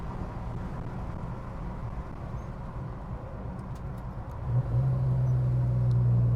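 A 1970 Chevrolet Chevelle SS LS6 big block driving at around 90 mph, a steady broad road and engine rumble from inside the car, with a low droning tone swelling louder in the final seconds.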